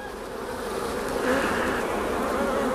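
Honeybees from a nucleus hive being moved into a full hive, a dense continuous buzz of many insects close by that swells slightly midway, with no voices.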